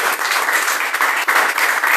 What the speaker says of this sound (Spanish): Aplaudir al Señor, iglesia